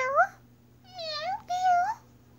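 A human voice imitates a cat, giving three short rising-and-falling meows in quick succession, close and clear over a faint background hum.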